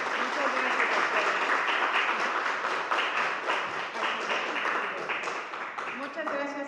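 An audience at a mental health talk gives sustained applause, dense clapping that stays steady and then thins slightly toward the end, heard alone without speech.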